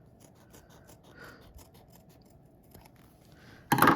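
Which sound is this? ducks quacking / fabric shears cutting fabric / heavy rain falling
fabric shears cutting fabric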